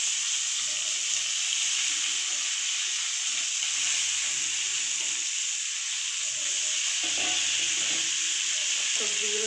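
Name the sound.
cabbage frying and sizzling in a pan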